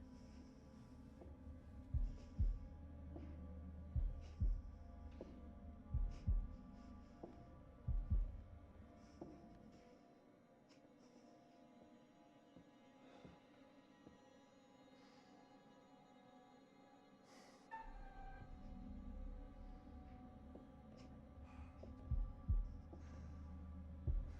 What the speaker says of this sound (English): With the heartbeat.